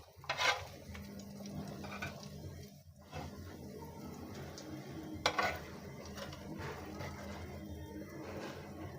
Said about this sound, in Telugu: ఫ్రై చేసుకున్న పీసెస్ అన్నీ ఇలా వేసుకోవాలి.